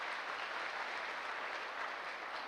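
Steady, dense applause from an audience at a gathering, loud and continuous throughout with no voices standing out.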